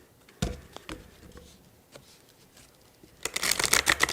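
Oracle cards shuffled by hand during a reading, giving soft papery riffles and pats that build into a denser, louder flurry toward the end, with no talking.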